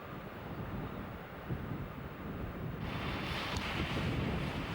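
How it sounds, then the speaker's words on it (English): Steady roar of storm-driven surf crashing against an island shore, with wind buffeting the microphone, growing slightly louder and brighter partway through as a wave surges in. "great storms from the Antarctic send massive waves crashing against the shore."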